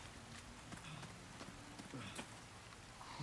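Steady rain falls in the video game Resident Evil 4, a dense, even patter of drops on the ground that runs without a break and stays faint in the mix.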